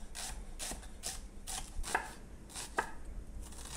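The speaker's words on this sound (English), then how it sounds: "Then I'm going to peel and chop 1 onion, medium size." A medium onion being chopped with a knife on a board, about eight crisp, evenly spaced cuts close up, with no talking.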